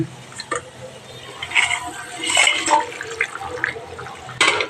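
Parshe fish are dropped into a simmering gourd and onion broth with turmeric, giving brief watery splashes and bubbling that rise and fall over a few seconds, close by, with no talking.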